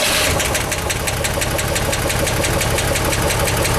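A steady flat six-cylinder Chevrolet Corvair engine idle with a rapid, even mechanical chatter, loud and close, with no talking.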